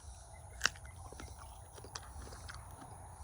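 A single sharp crunchy bite into a jujube fruit, followed by quiet chewing and faint mouth sounds.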